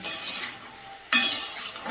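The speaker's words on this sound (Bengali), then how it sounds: "সুন্দর করে এটা ভাজবো।" Vegetables seasoned with salt and turmeric fry in a pan while being stirred, giving soft sizzling under scraping, clinking strokes that come in two bursts, the second sharper and louder.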